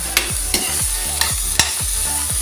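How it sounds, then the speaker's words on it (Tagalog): Chicken binagoongan with eggplant sizzles in a pan while a utensil stirs and scrapes it, producing several sharp knocks against the pan over a continuous close frying hiss. "gisa-gisa muna natin siya para lalong masarap ang ating talong"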